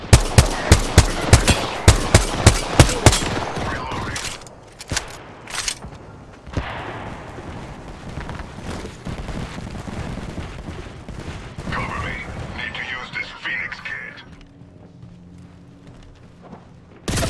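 Rapid bursts of gunfire in a shooter video game crack out loud and close for the first few seconds, then give way to scattered, fainter shots, thuds and game effects.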